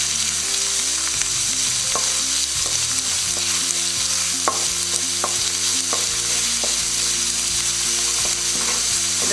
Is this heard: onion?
yes